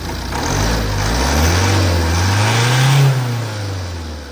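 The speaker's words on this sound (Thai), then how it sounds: "อ่ะติดเครื่องดูนะ" A car engine fires up after injector and belt repairs and is revved, the loud nearby engine note climbing and falling in pitch through a couple of throttle swells before settling.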